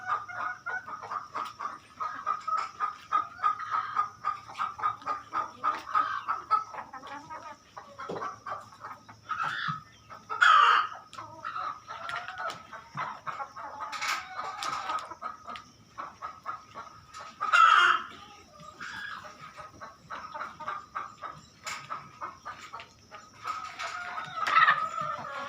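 Kadaknath hens on a Punjab farm cluck steadily throughout, with a few louder squawking bursts standing out near the middle and end.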